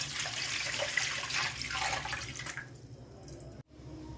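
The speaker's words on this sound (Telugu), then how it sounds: "ఇప్పుడు గిన్నె తీసుకుని అందులో నీళ్ళు వేసుకోవాలి" Water pours steadily into a pot for a few seconds with a bright rushing splash, then cuts off, leaving a quiet low background hum.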